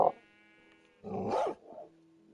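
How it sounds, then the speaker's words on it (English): In-game dog barking in the Minecraft console edition, a couple of short synthetic barks, one at the start and a louder burst midway, over a steady tonal background of game music. "they'd be reacting to this in-game dog barking"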